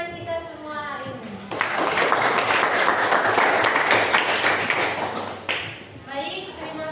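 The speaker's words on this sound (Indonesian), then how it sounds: "Berikan tepuk tangan untuk kedisiplinan kita semua hari ini." Classroom audience applause, a burst of steady group clapping lasting several seconds, preceded and followed by someone speaking.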